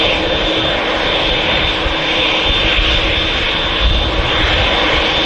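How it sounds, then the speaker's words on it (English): A Boeing 787 Dreamliner departing Manchester Airport for Montego Bay gives a loud, close, continuous jet engine roar throughout, with no speech. "There's two Dreamliners off to Montego Bay"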